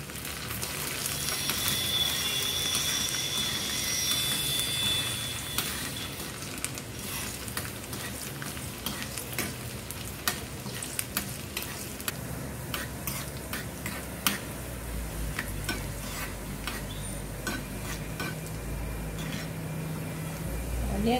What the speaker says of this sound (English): let the onions become golden brown in color.